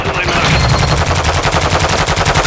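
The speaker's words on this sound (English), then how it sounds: "Taking effective fire!" Rapid machine gun fire in Call of Duty: Modern Warfare 2 DMZ during a radiation-closing extraction on Aishika Island, a loud, dense stream of fast repeating shots running without pause through the whole stretch.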